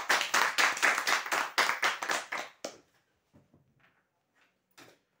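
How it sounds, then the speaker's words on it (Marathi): Clapping at a Marathi customer prize-draw event: a short burst of quick, firm handclaps, fairly close, stopping abruptly after a couple of seconds, followed by a few faint scattered taps and near silence. "जोरदार टाळ्या वाजवा"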